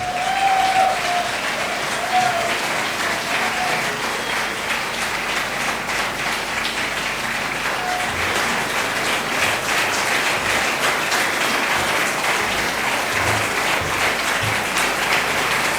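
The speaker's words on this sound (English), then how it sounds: "big round of applause." Sustained applause from a large crowd at a memorial tribute ceremony fills the space, steady and dense clapping that continues evenly without any talking.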